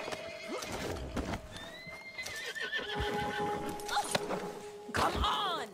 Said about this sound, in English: This horse ain't dead!